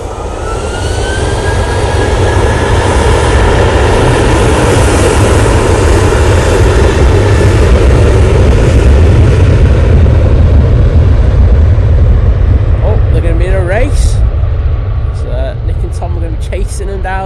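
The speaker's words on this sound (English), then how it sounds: "there's the flight off to Lanzarote" A TUI Airbus A321neo jet departs Manchester Airport, its engines roaring loud and continuous with a rising whine, then fading as it climbs away while a person talks near the end.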